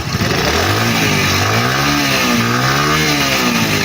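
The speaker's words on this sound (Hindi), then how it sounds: "अभी बाइक को स्टार्ट किया। ठीक है, मैं इसकी रेस अभी ये देखिए" A motorcycle engine runs steadily and loud, its pitch rising and falling through repeated revs as the throttle is worked, with no talk over it.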